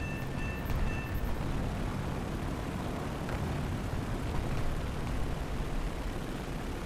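Bomb explosions in the War Thunder game after a drop from an AAB B18A aircraft, heard as a steady, loud, rumbling roar of blasts and engine noise throughout, with no talking.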